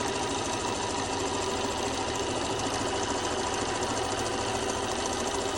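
Sewing machine stitching diagonally across a corner while making a fabric travel trinket tray, a continuous rapid mechanical whir with fast needle chatter, steady and close.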